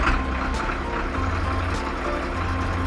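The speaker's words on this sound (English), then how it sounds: "Dumper arrived." A dumper truck drives through a stone quarry, its low diesel engine rumbling steadily and close by, with faint beeping mixed in.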